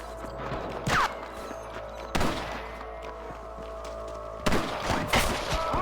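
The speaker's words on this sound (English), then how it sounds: "I can hear more gunshots." Gunfire in the video game Red Dead Redemption, three sharp loud bursts spaced a couple of seconds apart, the last a quick double, over a steady background of game ambience.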